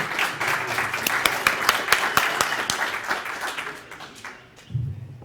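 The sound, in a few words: conference audience applause for a speaker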